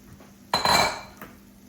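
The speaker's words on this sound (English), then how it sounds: "I'm going to stir my corn and make sure that it does not stick to the skillet" Corn stirred in a skillet with a utensil: one short metallic scrape and clatter against the pan, close up, followed by a faint tap.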